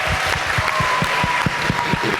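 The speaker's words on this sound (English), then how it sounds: "could y'all help me give them a hand clap?" Audience at a Black student-athlete summit clapping hands together, a steady dense patter of many claps sustained throughout at moderate loudness.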